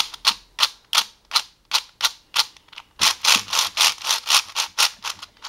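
Rapid crunchy, crispy clicking of a Maru 4x4 speedcube being turned, spaced turns at first and then a faster continuous run of clacks, close and fairly loud.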